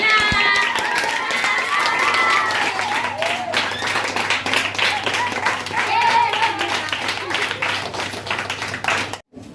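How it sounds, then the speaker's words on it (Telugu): A class of ninth-grade schoolchildren claps together in sustained applause, many hands patting rapidly, with voices calling out over it before it fades. "చప్పట్లు కొట్టండి అందరూ."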